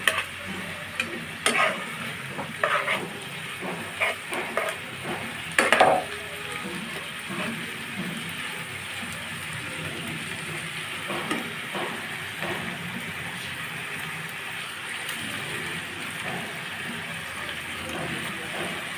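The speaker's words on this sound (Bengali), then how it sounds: "চালগুলো আমি ভালোভাবে মিশিয়ে একটু সময় নিয়ে ভাজব যাতে পোলাওগুলা একটু ঝরঝরা হয়" Rice being stirred and fried in a pan with shrimp and sugar for shrimp polao, heard as a soft steady sizzle with bursts of scraping and clattering from a spoon against the pan, busier at the start and quieter later.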